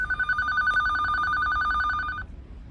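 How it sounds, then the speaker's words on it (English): A red landline telephone rings with a steady electronic trill, loud and close, for about two seconds before cutting off into quiet room hiss. "That's my landline. I know we still have a landline. Look, it's a red phone."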